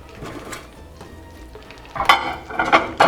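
Butter sizzling in a frying pan is soft and quiet at first, then a few louder bursts of crackling and utensil scraping arrive in the second half.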